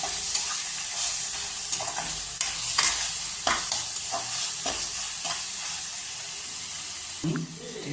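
Chicken sizzling in a pan as a spoonful of ginger paste goes in for Gandhoraj chicken, a steady hot fry broken by repeated stirring scrapes and a louder clatter near the end.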